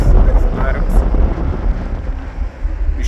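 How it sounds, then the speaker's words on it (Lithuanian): Wind buffets the microphone on the deck of a DFDS ferry, a loud, gusty roar strongest at the start that then eases a little, close and constant. "Biškį vėjas. Nemalonus."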